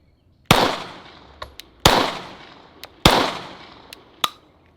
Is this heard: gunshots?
yes